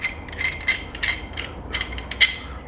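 A metal screw pin bow shackle pin is threaded in by hand, giving a run of small rhythmic metallic clicks and scrapes, close and fairly quiet, with a sharper clink near the end.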